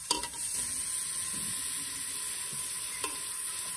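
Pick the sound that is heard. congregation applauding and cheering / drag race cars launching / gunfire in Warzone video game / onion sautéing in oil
onion sautéing in oil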